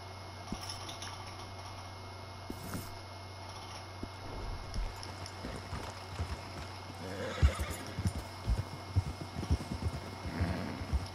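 Horse in Red Dead Redemption 2 whinnies and clip-clops along at a steady gallop rhythm, hoofbeats growing louder and denser toward the end over a constant low game hum.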